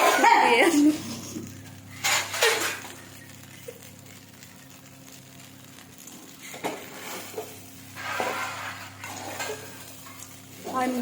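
Idli upma being fried and stirred in a pan, with soft scraping and sizzling in bursts and a steady low background, the spoon knocking against the pan now and then; nobody speaks.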